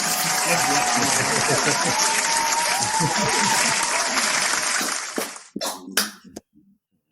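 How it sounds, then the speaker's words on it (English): Loud audience applause at a live comedy-style talk show, dense continuous clapping and crowd noise for about five seconds before cutting off abruptly, followed by a couple of short bursts and silence. "A round of applause for that."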